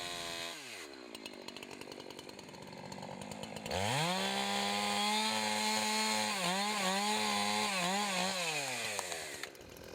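A chainsaw bogs down into wood for a pie cut, first a rough low revving, then from about four seconds a loud, steady, high-pitched cutting drone with slight pitch dips as the bar loads, then the engine winds down near the end.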